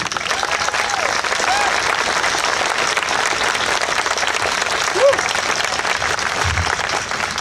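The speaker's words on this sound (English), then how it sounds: "Applaud yourselves, because that wouldn't have happened without you." A crowd at a Wekiva springs conservation event applauds itself in continuous, loud, even clapping with faint cheers and voices mixed in throughout.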